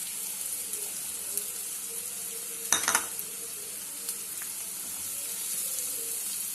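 Fennel seeds, onion and carrot sautéing in a hot pan, a soft continuous sizzle with a single brief clatter of stirring midway, no voices.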